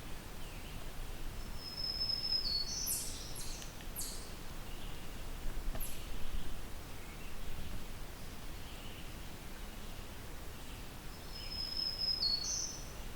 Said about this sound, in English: It's a second black-throated green warbler.